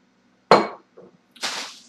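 Ice dropped into a clean, ordinary old cocktail shaker: two sharp clattering bursts of cubes hitting metal, with a small rattle between them, close and loud.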